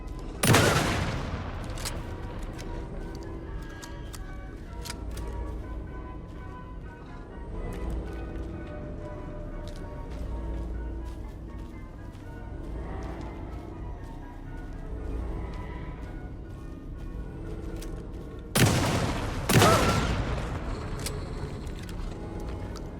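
Shotgun blasts in Alan Wake II: one loud booming shot at the start, a tense stretch of quieter ambient game sound, then a second heavy blast near the end.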